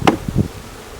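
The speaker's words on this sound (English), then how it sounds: "My goodness, look at all the bees." Bees swarm around a hive, giving a short close buzzing burst with a couple of brief insect hums that fade quickly.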